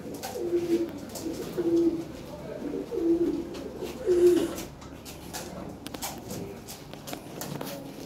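Large Lahore pigeons of European standard quality coo in soft low repeated calls, four short coos spaced about a second apart, fairly close, with faint shuffling and background noise afterward.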